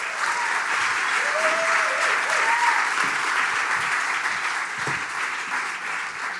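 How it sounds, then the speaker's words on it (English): Audience applause fills a hall at a community event, steady and sustained clapping throughout with a few brief whistles or cheers near the start. "please give a warm round of applause to Sehan Brar."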